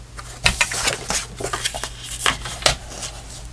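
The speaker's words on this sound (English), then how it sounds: "If I cut it off right there." Scissors snip through a paper journaling card in a run of short, close crisp cuts and paper rustles, with a faint steady hum beneath.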